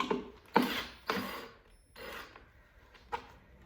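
A fastener is loosened on an IKEA nightstand during assembly, giving a few short, close mechanical clicking and ratcheting bursts with quiet gaps between them.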